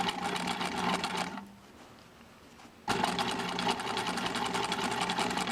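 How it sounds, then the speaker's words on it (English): Sewing machine stitching a straight line along the fold of a fabric hem, a close, continuous mechanical whirr that stops for about a second and a half, then starts again at full speed. "I would begin sewing as close to that fold as I can get and just sew a nice straight line along that fold."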